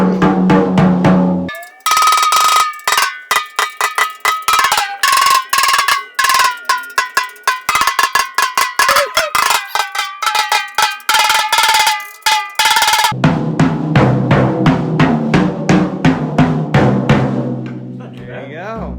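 Drums on a cheap Gammon kit fitted with new Remo black suede heads being tuned: rapid repeated close hits with pitched ringing tones, dense tapping throughout, ending in fuller lower sustained drum resonance.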